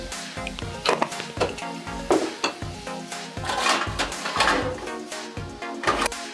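Chopped tomatoes and salt go into fenugreek cooking in a pan, a rhythmic run of close clinks, knocks and scrapes of a spoon against the metal, with a light sizzle underneath.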